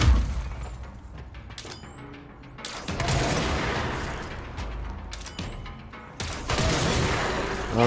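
Fungus enemies in the video game Control bursting apart in loud, crackling blasts, two big explosive bursts separated by a few seconds of rumbling combat noise, close and dense with debris-like crashes.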